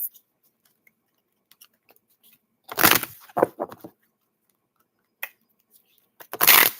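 Tarot cards are being shuffled in a few short, crisp bursts of riffling and rustling, separated by near silence, close up in a quiet room.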